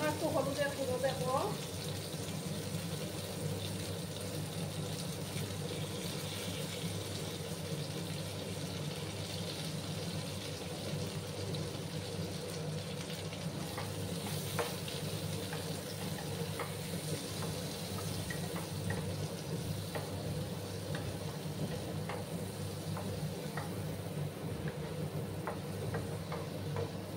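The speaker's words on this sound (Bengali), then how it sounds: "এবার দেখো আমি ওই তেলের মধ্যে কয়েকটা বেগুন, আমি সরু সরু বেগুনগুলো কেটে রেখেছিলাম 4-5টার মতো, একটা এবার দিয়ে দিলাম" Thin eggplant slices sputter in hot oil for a Bengali eggplant-and-hilsa curry, a steady soft sizzle running the whole time with a few brief clatters near the start.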